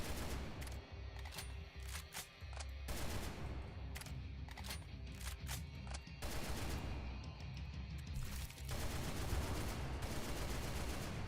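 Incendiary gunshots from a Left 4 Dead 2 gun mod crack out in repeated rapid bursts with short pauses between volleys, loud and close, with no voices.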